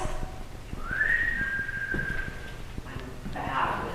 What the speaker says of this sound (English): Can you whistle for us?